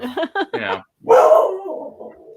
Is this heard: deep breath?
no